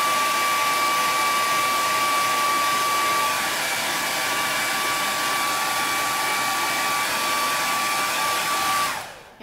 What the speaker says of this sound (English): Then I'm gonna go back in my handy dandy blow dryer.